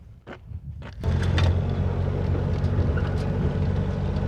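A Jeep CJ5 engine with about 75 horsepower starts up after a couple of faint knocks, then runs with a loud, steady rumble as the Jeep is driven off.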